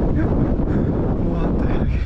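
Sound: strong wind blowing into the microphone

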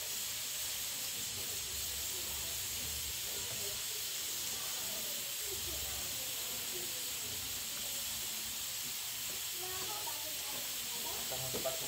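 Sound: draining cooked pasta water from a pot, steam hissing

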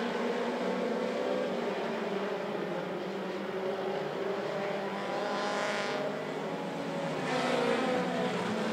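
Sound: race cars driving down the front straightaway

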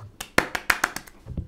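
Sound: hand clapping

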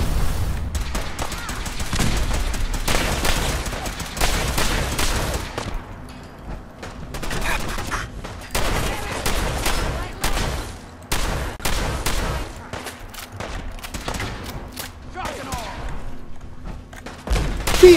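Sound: gunfire in a firefight, from the video game Fallout 4

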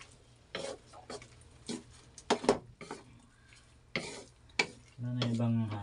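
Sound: stirring bitter melon and egg in a pan

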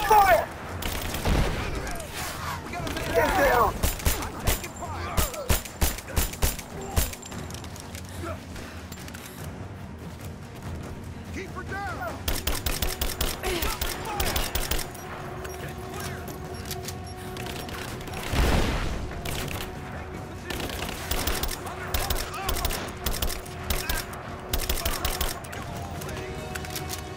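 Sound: gunfire in a firefight, Rise of the Tomb Raider video game

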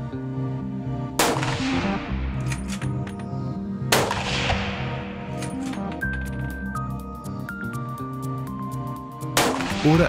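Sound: rifle shots fired to check zero of a Swarovski X5 riflescope

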